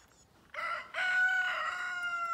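Free-ranging laying hens and a rooster on a French backyard plot: a near, clear rooster crow rises in two long pulled phrases after a brief quiet start, with no speech.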